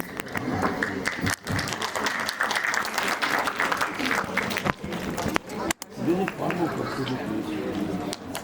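A high school audience gives a sustained round of applause for the performers, dense clapping from a crowd that fills the space for several seconds, with voices mixed in beneath it.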